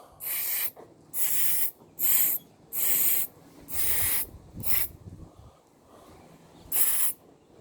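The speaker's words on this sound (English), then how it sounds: "Spray that oil through the motor." Repeated short hissing bursts of spray, seven or so in an uneven rhythm, close and loud, as contact cleaner and oil are sprayed through a Traxxas Titan 12T electric motor, with faint handling noise in between.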